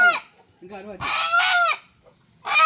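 A free-range country hen clucks and squawks in a few loud, close bursts, with short pauses between calls and a steady high hiss in the background.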